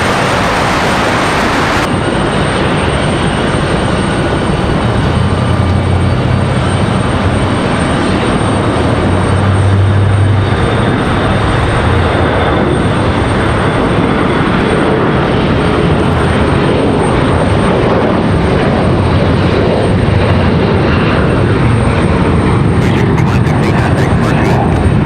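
A PSA Airlines CRJ-900 regional jet departing Raleigh-Durham airport, a loud, sustained engine roar close by, holding strong throughout with a brief low throb partway.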